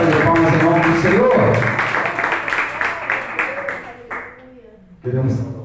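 Church congregation giving a round of applause, a loud, sustained wash of clapping with voices mixed in that tapers off before someone starts speaking.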